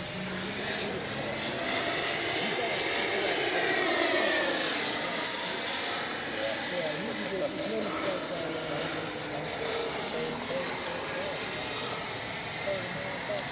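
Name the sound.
FMS 70mm F/A-18F RC jet flying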